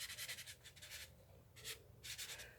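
Green paint dabs are rubbed onto a card for a watercolour look, making soft, close, scratchy rubbing strokes in short bursts with brief pauses between them.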